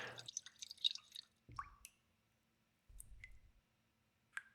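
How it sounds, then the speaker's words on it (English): Sparse water drips in a video game map's ambient soundscape: a few isolated, close plinks separated by silence, with soft low squishy bursts between them. "These include running water or water drips"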